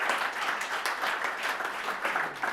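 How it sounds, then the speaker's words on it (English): Applause from the audience at a Drupal conference talk, a steady wash of many hands clapping together for the whole stretch, fairly even in loudness without any voices over it. "why don't we give a clap for everyone else here and all the other people that gave a talk?"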